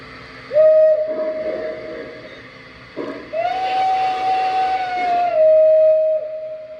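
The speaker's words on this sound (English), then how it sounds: "That's a pretty good whistle" A Lionel Legacy L1 #1343 model train whistle sounds twice, a short blast then a longer steady one, close and clear with a breathy hiss around it.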